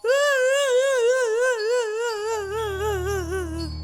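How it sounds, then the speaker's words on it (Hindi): A boy's high, wavering scream with a trembling pitch, loud and sustained, tapering off while a low rumbling noise rises underneath near the end, in a Hindi horror cartoon. "अरे ये तो रॉकी के चिल्लाने की आवाज है"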